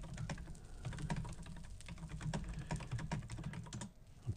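Quick clattering keystrokes on a computer keyboard, an irregular run of close, crisp clicks with brief pauses, fairly quiet and without speech.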